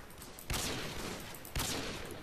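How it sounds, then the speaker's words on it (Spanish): Gunfire in Call of Duty Modern Warfare 2 during a solo sniper match, two sharp shots about a second apart over a constant noisy game backdrop. "Están disparando de atrás"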